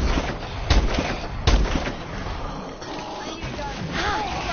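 A couple of sharp gunshots from a video game gun, with a rumbling mechanical background and a player talking in between.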